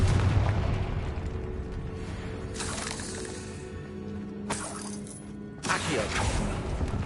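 Fiery Confringo blast spells in Hogwarts Legacy, three bursts of whooshing, crackling explosion over a low rumbling background, each blast loud and close, the last one strongest.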